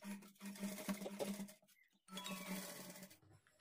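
A sewing machine stitches along the folded edge of a high neck blouse hem in two short bursts of quiet motor humming and rapid needle patter, separated by a brief pause.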